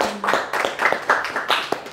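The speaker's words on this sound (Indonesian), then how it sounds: "Tepuk tangan untuk Farah." Scattered clapping from an audience greeting a finalist at an East Java tourism ambassador event, a handful of distinct hand claps at uneven intervals, fairly close and moderately loud.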